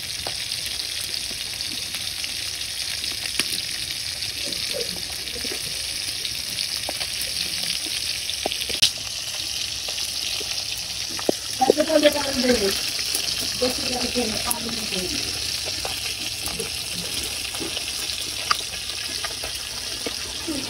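Leafy greens frying in a pan during monsoon-season home cooking, a steady sizzle running throughout with occasional stirring scrapes that grow busier around the middle.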